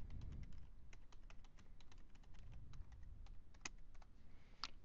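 Steady typing on a computer keyboard, quick irregular key clicks with a couple of louder taps, close by and quiet, no voices.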